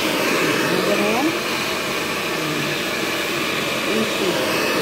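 A hair blower runs steadily and loudly throughout while hair is brushed and styled, its broad rushing airflow constant, with faint voices beneath.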